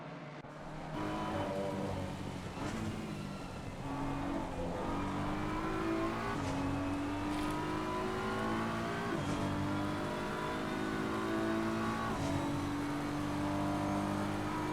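Racing cars, a Mustang and a BMW, in a sim-racing endurance race at the Red Bull Ring, their engines droning and revving steadily through gear changes, loud and continuous with no voices.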